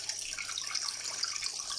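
Tap water running steadily to refill an aquarium, a soft continuous splashing hiss at low volume with no voices.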